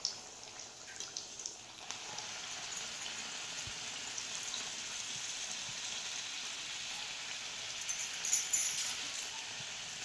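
Spinach puris frying in hot oil in a village-style kitchen, giving off a faint, steady sizzle and crackle throughout, with a few louder pops near the end.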